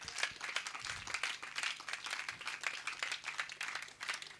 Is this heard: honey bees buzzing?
no